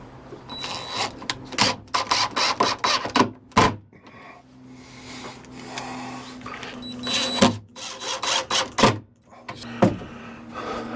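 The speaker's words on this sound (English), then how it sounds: "And then we need to take 2 screws and screw that to the top." A screwdriver or drill drives two screws into the top of a wooden piece during household repair work, with bursts of mechanical whirring and clicking broken by short pauses, close and fairly loud, with no talking.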